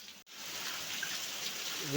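Heavy rain falling steadily in a village, with night wind blowing, a continuous broadband hiss that holds at an even loudness throughout, briefly broken near the start by a short dropout.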